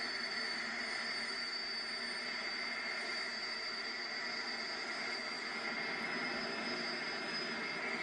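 A jet funny car's jet engine at a drag race in Pont-Rouge gives a loud, continuous roar with a piercing high whine, holding steady and unbroken throughout.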